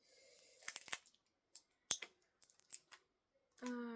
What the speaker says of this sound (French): Faut couper le plastique, c'est ça?